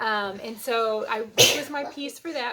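A single loud sneeze bursts out in the middle of ongoing speech, sharp and close, between stretches of someone talking about a cross stitch piece.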